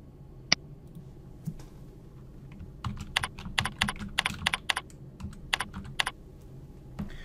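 Keys clack on a computer keyboard as a short title is typed, a quick irregular burst of close, crisp clicks after a single early tap, with quiet room tone and no voices.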